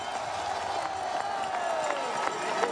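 Spectators at a biathlon pursuit race at Le Grand-Bornand applaud Johannes Bø, a steady wash of crowd clapping with scattered cheers, continuous and moderately loud throughout.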